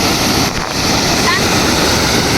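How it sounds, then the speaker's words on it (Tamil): Water pours heavily from the Palakkarai trough aqueduct near Perundurai, Erode district, in a constant loud rushing wash, with a voice faintly present beneath the roar. "அங்கே பாருங்கள் சரியான தண்ணி ஊற்றுது"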